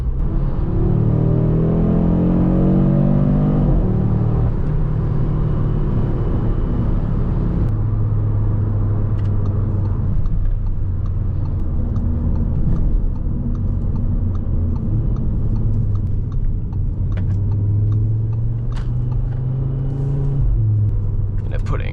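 An Audi RS3 cruising through a neighborhood in comfort mode, heard from inside the car as a steady, loud engine and road rumble that shifts in pitch as it changes speed. A voice talks over it throughout.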